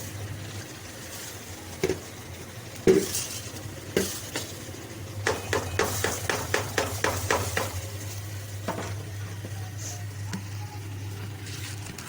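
Soaked rice, pre-soaked for fifteen minutes, tipped into a pot of boiling water for fish pulao, giving a quick run of rhythmic knocks and clatters over a steady low hum, with no one talking.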